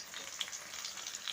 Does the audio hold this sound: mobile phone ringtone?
no